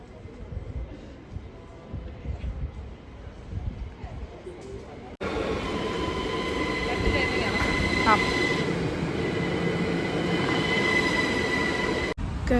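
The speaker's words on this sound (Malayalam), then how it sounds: "ഞങ്ങളുടെ ട്രെയിൻ വരുന്നുണ്ട്." A train arrives at a station in Vienna, Austria, on a cold day. Its rumble grows louder and loud metallic wheel squeals ring out over a continuous, close hum, broken by a couple of abrupt cuts.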